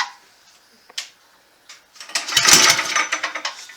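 The small engine of a Black Mamba minibike is pull-started, with a few faint clicks and tugs on the cord before it sputters into a loud, rapid, uneven running chatter close by.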